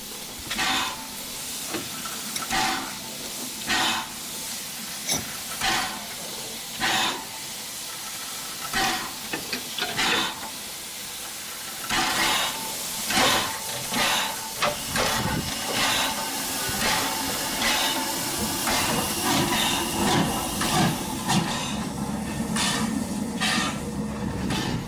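The Adams O2 steam locomotive Calbourne hisses steam at Smallbrook Junction as it prepares to run around its train, a loud continuous hiss broken by repeated sharp bursts and puffs that swell into a denser roar near the end.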